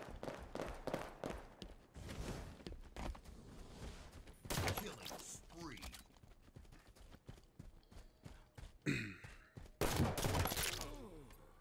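Gunfire from Halo 5: Guardians in SWAT mode, with repeated sharp shots and bursts through the match and other in-game effects, and brief talk in places.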